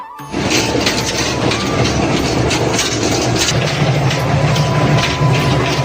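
The Titumir Express from Saidpur to Panchbibi rolls steadily along the rails behind a diesel locomotive, with a continuous rumble and rattle of carriages, and faint clicking underneath throughout.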